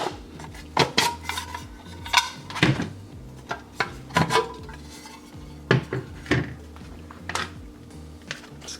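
Food is spooned from an Italian mess kit into a bowl, bringing repeated close metallic clinks and scrapes of a spoon against metal, irregular and sharp, with no speech.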